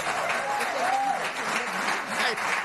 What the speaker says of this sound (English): Mary gets applause from the audience on CNN at a Nancy Pelosi town hall.